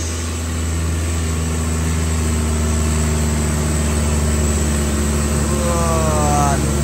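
A vehicle engine drones steadily and loudly as it labours uphill on a rough route, with a rising whine near the end and no clear break in the continuous roar.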